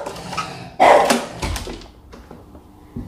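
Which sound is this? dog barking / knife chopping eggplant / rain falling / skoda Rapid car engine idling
dog barking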